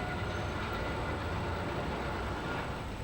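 Old short-wheelbase trams running at a pier head terminus, a continuous rumbling roar of wheels on rail with a faint high whine, steady and close throughout with no voices.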